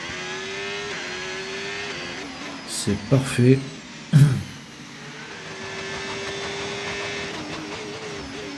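Race car engine in a racing video game on a qualifying lap, a steady high whine that dips and climbs through corners, with someone talking briefly over it and a few short louder bursts in the middle.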